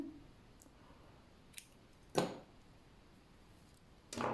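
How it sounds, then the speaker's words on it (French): Scissors snip through crochet yarn while a Christmas bell ornament is being finished: three short, crisp cuts, one faint and two louder, spaced apart in a quiet room with no talking. "je termine par une maille en l'air, je coupe le fil"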